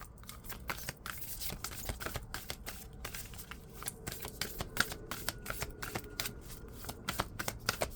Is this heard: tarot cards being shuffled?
yes